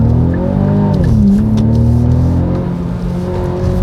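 A Hyundai Veloster takes a corner hard, its loud engine note dipping and then climbing while the tires give a faint squeal, close and continuous with no talk.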